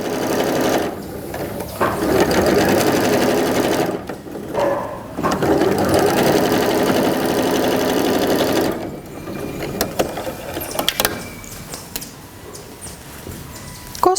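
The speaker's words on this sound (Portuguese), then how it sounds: "Costuro meu jogo de faixas" A sewing machine stitches quilt fabric strips in rapid bursts of rhythmic mechanical whirring, stopping briefly between runs, close and clear with little else around.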